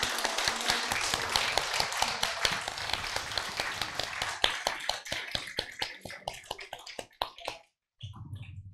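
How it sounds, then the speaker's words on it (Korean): An audience applauds to honor a teacher at a humanities lecture forum, a loud burst of clapping that thins into scattered individual claps before stopping. "큰 박수 한번 부탁을 드립니다"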